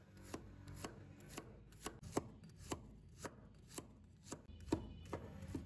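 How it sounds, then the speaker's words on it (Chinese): A kitchen knife mincing sliced garlic on a cutting board gives about a dozen sharp, evenly spaced chops. The strikes are close and crisp, with no voices. "然后再改刀剁成蒜末"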